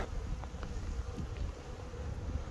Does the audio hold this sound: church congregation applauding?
no